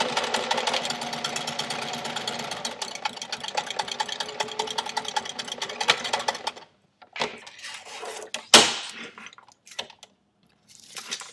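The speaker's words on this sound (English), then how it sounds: "just do this real slow so that you can try and sew a straight line" A sewing machine slowly stitches umbrella fabric for a tote bag, giving a steady, rapid mechanical chatter for about six seconds. It then stops, and a few scattered clunks and handling sounds follow.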